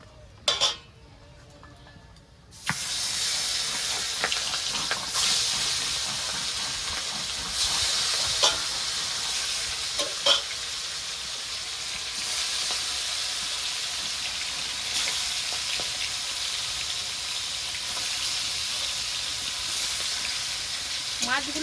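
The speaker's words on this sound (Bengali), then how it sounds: "এবার মাছগুলো ভেজে নেবো" Fish rubbed with salt and turmeric frying in hot oil in a wok: after a quiet start, a loud, steady sizzle sets in and holds, with occasional clinks of a utensil against the pan.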